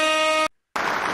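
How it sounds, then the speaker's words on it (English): A loud, brassy horn blast sounds, cuts to a brief silence, then another harsh blast follows. "I gotta play that air horn."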